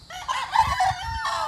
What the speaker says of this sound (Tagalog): Ito yung mga manok ng Pidoy's Game Farm.